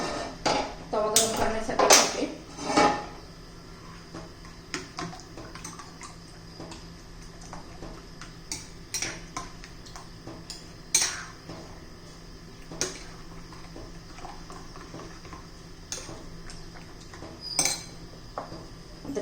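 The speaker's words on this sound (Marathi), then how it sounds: "पाच अंडी घेतलेली आहे मी आणि आता छान असं फेटून घ्यायचं" Five eggs being whisked in a bowl make irregular clinks and taps of utensil against the bowl, louder in a few early bursts and then lighter, set against a quiet kitchen background.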